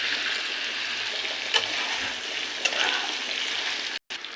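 Pre-fried chicken going into a hot pan for chicken biryani, giving a steady, moderate sizzle with a couple of faint clinks of stirring and a short drop-out near the end.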